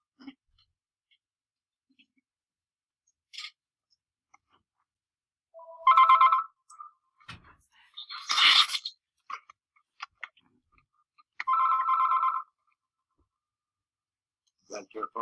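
A phone rings during a Zoom call, with short electronic tone bursts repeating between clicks and faint noises, clear and fairly close.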